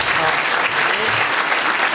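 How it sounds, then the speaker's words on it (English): A dense, steady burst of clapping from a City Club audience fills the moment, loud and continuous from start to finish. "Let's give a round of applause."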